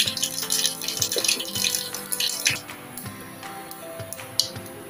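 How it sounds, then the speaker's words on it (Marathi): Mustard and cumin seeds splutter in hot oil for a bottle gourd curry, a close, dense, steady crackle of rapid pops and sizzles that eases slightly toward the end, with no talk. "जिरं मोहरी तडतडली."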